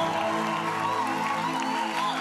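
A church congregation at a worship service cheers and acclaims God with a sustained swell of many voices shouting and calling out together, full and continuous with no break.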